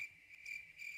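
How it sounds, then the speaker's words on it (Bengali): Steady high-pitched cricket chirping fills a night scene in a cartoon along a rural village path, a continuous insect trill with slight pulsing and no voices. "মেঠো পথ, চারিদিকে ঝিঝি পোকার ডাক।"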